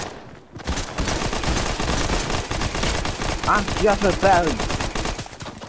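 Rapid continuous gunfire from a Fortnite game, loud and dense for most of the stretch, with voices speaking over the shots.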